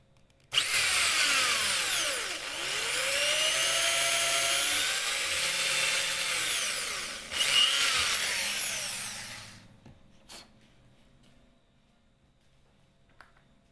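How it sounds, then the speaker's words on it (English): An electric drill bores a hole in the center of a wooden piece, a loud, steady high whine lasting about nine seconds with one brief dip before it winds down and stops, leaving a few faint knocks. "Then drill a hole in the center of the wooden piece."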